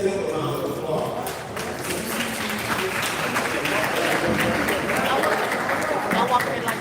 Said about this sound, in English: So we have our candidates walking in. Let's give them a round of applause.